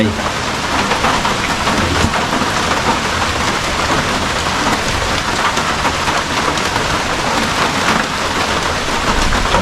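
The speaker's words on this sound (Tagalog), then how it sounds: "Laging umuulan dito sa amin." Steady rain falls during a low-pressure spell in a rural yard, a dense, continuous hiss of drops drumming on surfaces, loud and even throughout with no pause.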